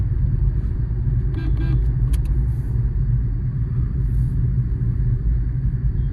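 Car engine pulling forward through city streets at night, a steady loud rumble with a slight rise as it accelerates, alone without talk.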